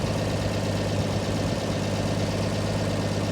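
Diesel engine of a Parson backhoe idling steadily up close, a constant low rumbling drone with even mechanical knock and no voices.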